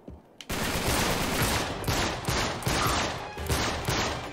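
Sustained automatic gunfire from a gun in Uncharted 3: Drake's Deception roars in loud, continuous bursts with brief pulses, close and dominant, with no talk over it.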